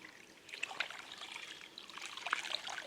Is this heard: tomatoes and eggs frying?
no